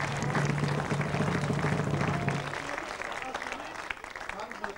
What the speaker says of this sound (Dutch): Applaus daar.